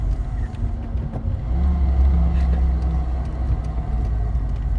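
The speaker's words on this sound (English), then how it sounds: "So we can hear the blower." Steady low engine rumble from a supercharged Toyota AE86 with a 7A-GZE engine swap, a faint high supercharger whine riding on top, loud and continuous throughout, no voices.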